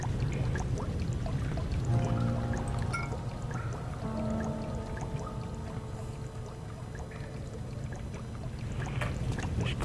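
Water fills a reservoir in the video game Amnesia: The Dark Descent, a quiet continuous pouring rush beneath low, sustained musical tones.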